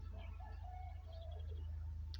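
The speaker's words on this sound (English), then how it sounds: "Do you hear that bird?" A faint bird calling in the distance, a few thin warbling notes over a steady low hum and background hiss.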